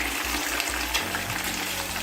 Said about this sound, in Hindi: अब चिकन का कलर तब्दील होने तक इसे फ्राई करेंगे